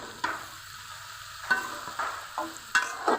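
Water lily stems (shapla) sautéing in hot spiced oil, a steady close sizzle broken by several sharp scraping stirs of a spatula against the pan.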